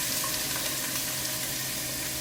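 Diced onion, half a cup, sizzles in a hot pan, a steady broadband hiss that stays even and close for the whole moment with no talk over it.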